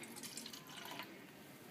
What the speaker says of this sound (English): I will taketh thy opium and pour it in thy goblet